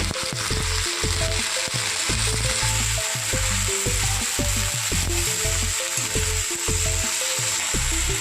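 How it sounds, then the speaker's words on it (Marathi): Okra masala frying in oil with turmeric and salt in a pan, a loud steady sizzle with constant crackle and repeated stirring scrapes throughout. "दोन मिनिटांसाठी ते फ्राय करून घ्यायचे चांगल्या प्रकारे"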